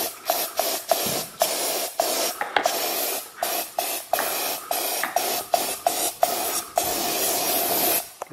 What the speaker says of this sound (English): I'm just going to use some Lysol to clean it up.